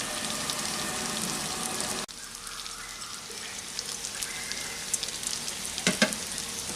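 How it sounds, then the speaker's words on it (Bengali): Raw mango and masoor dal being stirred together in a pan, a steady hiss of frying that drops abruptly partway through, then continues more softly with a few scraping strokes. "ভালো করে সব উপকরণ একসাথে মিশিয়ে নিচ্ছি"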